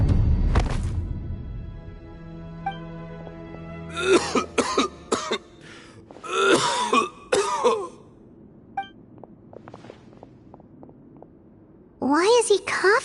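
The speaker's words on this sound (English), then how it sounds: "Why is he coughing so much?" A character in the video game Genshin Impact coughs in harsh, repeated bursts with quieter gaps and some throat clearing between them, loud and close.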